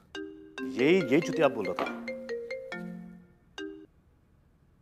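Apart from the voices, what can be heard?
mobile phone ringtone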